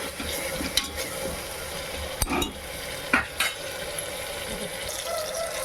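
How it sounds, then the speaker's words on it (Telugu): Ginger garlic paste fries in a pan with a continuous close sizzle, broken by a few sharp scrapes and taps of a spoon stirring against the metal. "బాగా ఫ్రై చేసుకోవాలి మనం వేసుకున్న ఈ అల్లం వెల్లుల్లి పేస్ట్ అనేది పచ్చి వాసన పోయేంత వరకు కూడా ఇది బాగా ఫ్రై చేసుకోవాలి"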